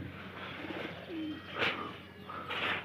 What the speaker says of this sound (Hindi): ये देखो चार ही कबूतर ऊपर है